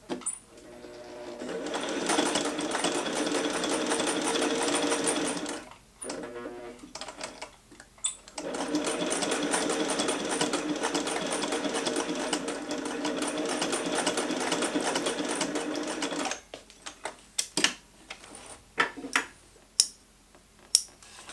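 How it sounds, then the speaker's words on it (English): A Singer 401A sewing machine stitches a bar tack through webbing, its fast, loud mechanical chatter running in two long bursts separated by a short pause, then giving way to scattered clicks and knocks. "I definitely haven't done a bar tack on webbing"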